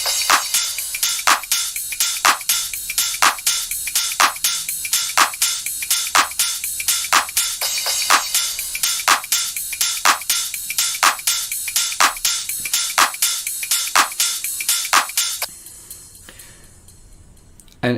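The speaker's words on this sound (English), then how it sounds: "Just got the claps, the hats, shakers, couple of rides, a percussion loop, and the crashes." A deep house drum loop of claps, hi-hats, shakers, rides, percussion and crashes plays on a steady four-on-the-floor groove, crisp bright hits in a tight repeating pattern, ending abruptly after about fifteen seconds.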